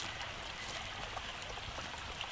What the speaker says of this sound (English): The water flows smoothly around the boulders.